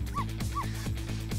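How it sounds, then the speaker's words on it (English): A small cartoon dog in the puzzle game Ghost Trick gives two quick yips over a looping, rhythmic game music track. "No barking!"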